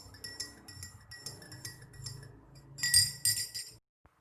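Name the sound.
stirring a liquid solution until homogeneous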